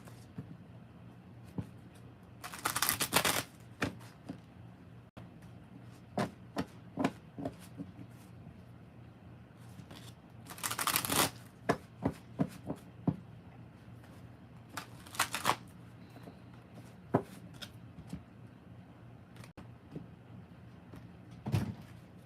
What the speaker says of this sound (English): So let's go ahead and pull some tarot cards.